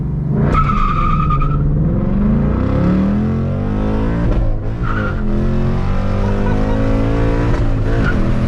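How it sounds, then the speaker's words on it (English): A car does a 3K launch at a Houston Cars and Coffee outing, its engine revving hard and rising in pitch as the tires squeal loudly and continuously close by. "We'll do a little 3K launch."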